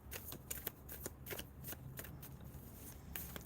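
A deck of tarot cards is shuffled by hand close up, with quick riffling flicks and soft slaps repeating in an irregular rhythm over a quiet background, no one speaking.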